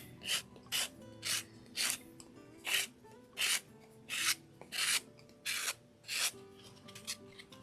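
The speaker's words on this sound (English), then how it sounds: "I'm just going to clean the very edge up here with this sanding sponge" A sanding sponge rubs against the edge of a craft coaster in about ten regular back-and-forth strokes, close up and raspy, with quiet pauses between.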